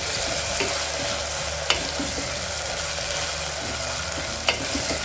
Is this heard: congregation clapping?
no